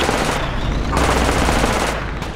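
Sustained enemy gunfire rattles in the Project Reality BF2 video game on the Muttrah City map, loud and dense throughout with overlapping rapid shots.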